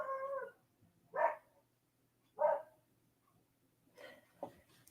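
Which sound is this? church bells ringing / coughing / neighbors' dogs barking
neighbors' dogs barking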